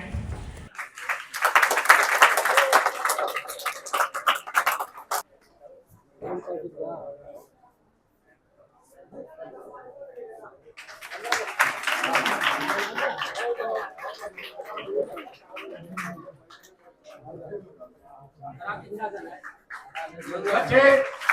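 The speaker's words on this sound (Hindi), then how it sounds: "बच्चे तालियां बजाएं" School children clap at an Independence Day flag-hoisting celebration in a government high school courtyard, with two loud bursts of applause separated by an announcer's voice, and speech continuing between and after the bursts.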